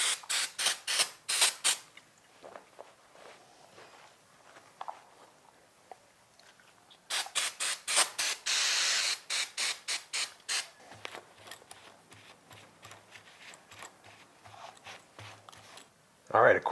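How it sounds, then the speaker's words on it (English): A can of carburetor cleaner hisses in several short, sharp spray bursts onto a filthy carburetor from a Polaris RZR 170, with quiet pauses between clusters and a brief spoken voice near the end. "So I've got a bottle of carburetor cleaner that's going to help us with this whole project here."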